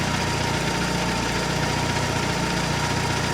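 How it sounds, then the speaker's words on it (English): A 998cc Mini engine idles at about 900 RPM, giving a loud, steady, close-up drone with an even low throb and no pauses. "I'll just button down that idle a little bit because it has climbed up. So I'll bring that to about 900 RPM."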